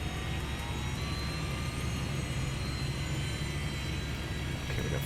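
Airplane engines in the airport traffic game Airport Madness 3D at Princess Juliana airport, a steady loud jet and propeller drone that holds throughout with a constant whine.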